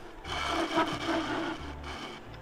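A lathe gouge cuts a claret ash bowl with wild grain and a knot, throwing long curly shavings: a short rough scraping rasp rises into a louder cut, eases, then returns briefly, close and without talk.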